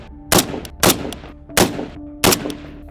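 Four loud, sharp rifle shots of the .277 Fury round at a shooting range, evenly spaced about a second apart, each a broadband crack with a short decaying tail, close and alone with no talk.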